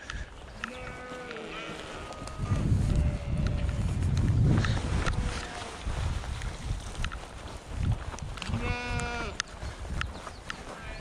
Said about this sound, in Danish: Hør selv fårene, de hæpper på dig.